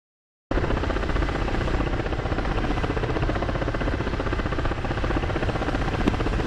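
A helicopter hovers close by in the DCS flight simulator, its rotor and turbine making a steady, loud, even drone that starts abruptly after a short silence and holds without a break.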